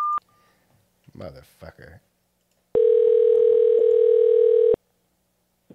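A telephone line plays a short tone, then after a few spoken words a loud, steady dial tone holds for about two seconds before cutting off.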